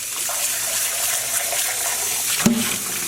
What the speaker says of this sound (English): That bath is filling up